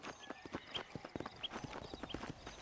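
Horse hooves clip-clop in a quick, even trotting rhythm in the video game Red Dead Redemption, quiet and unaccompanied by talk.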